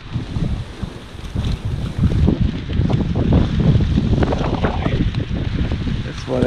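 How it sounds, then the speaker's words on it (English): Strong wind buffets an outdoor microphone in a garden with young grafted trees, making a loud, continuous roaring rumble that surges and gusts without letup. "It's already just really getting pummeled by this wind."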